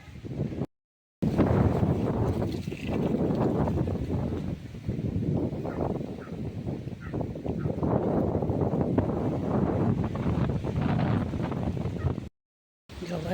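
Strong outdoor wind buffets the microphone during a sudden storm. It makes a loud, continuous low roar and rumble that breaks off once near the start and again near the end.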